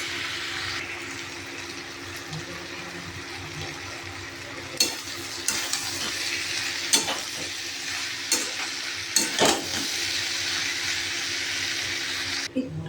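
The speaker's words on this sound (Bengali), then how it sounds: "এগুলোকে বেশ ভালো করে তেল দিয়ে নাড়াচাড়া করে ভেজে নেব" Potatoes stir-fry in oil in a pan: a steady close sizzle runs throughout, broken by irregular clacks and scrapes of a stirring utensil, with no speech.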